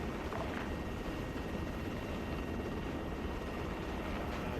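Steady, dense rotor and engine roar of a helicopter in flight, constant and close, with no voices.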